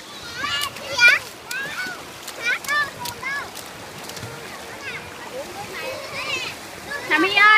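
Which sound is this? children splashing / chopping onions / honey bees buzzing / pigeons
children splashing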